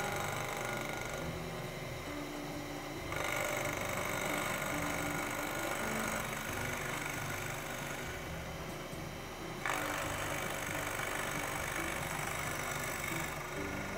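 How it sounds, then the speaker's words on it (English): A ball end mill ramps down into an aluminum motorcycle front hub casting on a milling machine, a loud continuous grinding whir with shifting pitch and a few abrupt changes in cutting load, heard up close with no talking. "I'm going to use a ball end mill because I'm going to ramp down"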